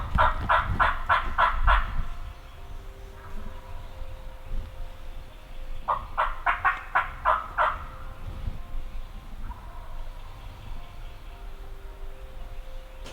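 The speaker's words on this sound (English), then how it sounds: "And he's still there gobbling." A wild turkey gobbles in two bursts of rapid, rattling calls a few seconds apart, moderately close, with quiet outdoor ambience and faint murmuring between them.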